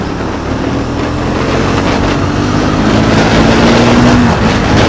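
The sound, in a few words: Triumph Speed 400 motorcycle riding in fifth gear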